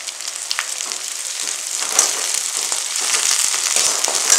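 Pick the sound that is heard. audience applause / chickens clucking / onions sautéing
onions sautéing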